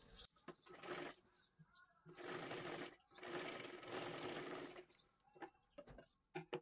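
Sewing machine stitching a princess-cut blouse, running in several bursts of steady mechanical whirring separated by short pauses, with light clicks and handling noises between runs.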